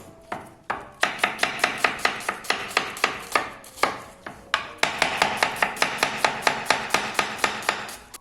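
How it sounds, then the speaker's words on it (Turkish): Steady rhythmic knife chopping a medium onion on a cutting board, dozens of quick crisp thuds in two long runs with a brief pause between, close and loud. "Şimdi bir adet orta boy soğanı yemeklik doğruyoruz."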